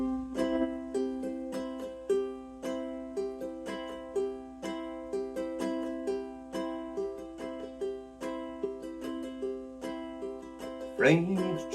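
Old-time bluegrass strum on a ukulele, playing the Freight Train chord melody: a steady, bright rhythm of alternating down and up strokes ringing clearly and alone. A short scraping slide closes the passage.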